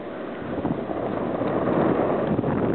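Strong wind roars outdoors during a snowy blizzard on a street, a constant heavy buffeting rush that batters the microphone, loud and unbroken.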